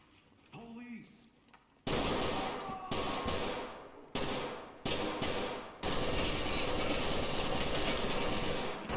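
A custom AK rifle fires in the tactical shooter Ready or Not, in loud, close bursts of automatic fire broken by short pauses, after a brief stretch of quieter sounds, with a voice heard briefly early on.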